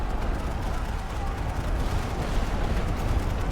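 Artillery in a World War One Western Front battle game rumbles continuously as dense, overlapping low booms and gunfire, loud and steady throughout with no clear pauses.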